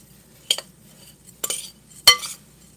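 Peanut butter, oats and cocoa are mixed in a bowl with a spoon, giving three separate clinks and scrapes of utensil against the dish, spaced about a second apart.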